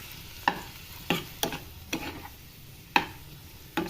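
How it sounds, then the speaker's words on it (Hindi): Chili flakes, black pepper and other spices being stir-fried together in a pan, with a soft background sizzle broken by about seven sharp scraping knocks of a spoon at irregular intervals. "सारी चीज़ें हमने एक साथ डाल दी हैं और उसको अच्छे से हम भूनेंगे"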